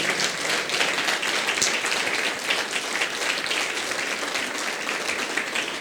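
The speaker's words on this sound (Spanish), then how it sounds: "Démosle una ofrenda de palmas, hermanos, al Señor" A church congregation claps together in steady, dense applause, loud and continuous throughout with no voices standing out.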